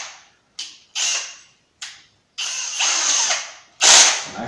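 A power drill fitted with a wood bit bores into a drywall wall in short bursts, several brief whirring pulses followed by longer grinding runs, close and loud with no talking.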